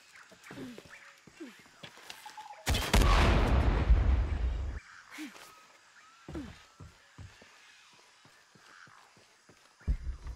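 A loud burst in Shadow of the Tomb Raider, a gunshot at a barrel that sets off a roughly two-second explosive blast, stands out among quieter game ambience and scattered clicks.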